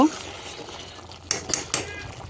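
A lid clatters down onto a pot of simmering chicken curry, with a few sharp metallic clinks close by over a low kitchen background and light cooking noise.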